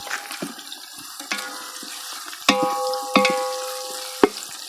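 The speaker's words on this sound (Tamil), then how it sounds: "இப்போ நல்லா வதங்கிட்டோம் ப்ரௌன் ஆயிடுச்சு" Whole spices of cinnamon, bay leaf, cardamom, cloves and stone flower sautéing in hot oil until browned, cooked outdoors in a garden: a close, continuous crackling sizzle broken by several sharp metallic scrapes and clanks of a ladle against the pan.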